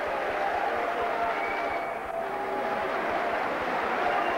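Boxing arena crowd applauds and murmurs after a round, a dense, steady wash of clapping and noise with a brief dip midway.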